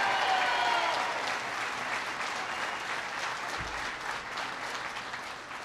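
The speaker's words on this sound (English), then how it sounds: "Please give them a big round of applause." A crowd applauds steadily, a broad wash of clapping that slowly fades in intensity.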